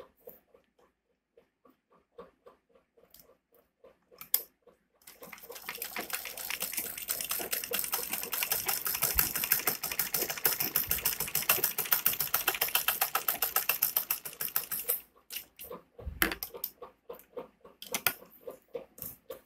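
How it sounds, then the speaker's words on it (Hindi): A sewing machine stitching along a kurti neckline, a dense continuous mechanical whir running for about ten seconds, framed by quieter intermittent handling clicks before and after. "अब हम इसके ऊपर सिलाई लगाएंगे।"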